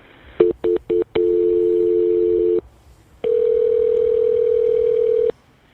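Four short telephone keypad beeps in quick succession, then a long steady tone, a pause, and another long steady phone tone.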